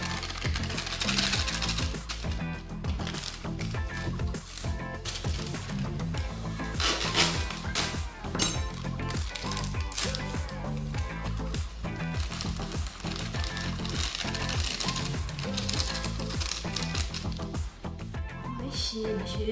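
An electric mixer beats pão de queijo batter close by with a busy buzzing whir and rapid rattling clicks against the bowl, running continuously while someone talks intermittently over it.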